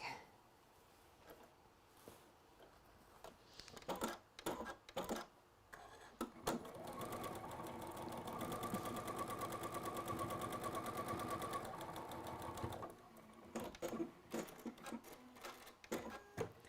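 A sewing machine stitches fabric in a sustained, rapid mechanical whir lasting several seconds, framed by short bursts and clicks before and after, fairly quiet with no talking.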